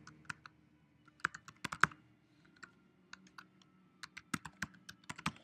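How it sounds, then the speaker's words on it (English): An email address is typed on a computer keyboard, with quiet, close, irregular key clicks arriving in short bursts and small clusters. "I have to simply type in their email address."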